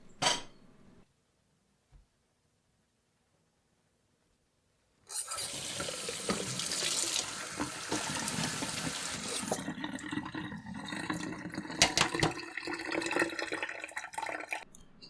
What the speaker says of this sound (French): je les refroidis directement en les passant sous l'eau froide